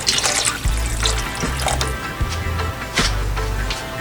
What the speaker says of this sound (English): Here we will add in our broth.